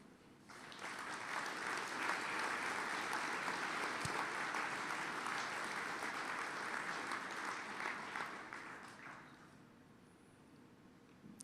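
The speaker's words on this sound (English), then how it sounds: "a round of applause." Sustained audience applause at an evening showcase honoring sponsors, steady and full for about nine seconds before fading out, moderately distant with no speech over it.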